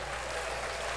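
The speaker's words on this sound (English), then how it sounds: "Let's get an applause for that one." Applause, a brief, faint and even patter of clapping that stays steady over its short length, with nobody talking.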